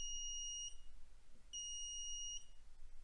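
Two faint, thin beeps from an electronic buzzer covered with a sticker, each lasting under a second, with a pause between them, muffled and quiet over a low background hum.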